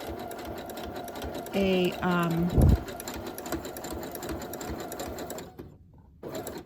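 A sewing machine stitches a zigzag outline on fabric in two short whirring bursts, each with a rhythmic mechanical chatter, while someone speaks quietly over it.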